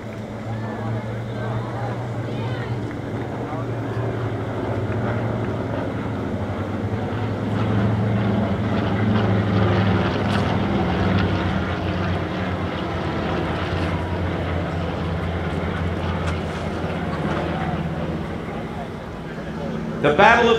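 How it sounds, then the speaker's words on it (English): Two TBM Avenger torpedo bombers and a Curtiss Helldiver flying over a WWII VE Day ceremony, a steady low propeller-engine drone with wind rumble lasting throughout while an announcer talks. "here come the 2 TBM Avengers and the Curtiss Helldiver, nicknamed the Big-Tailed Beast"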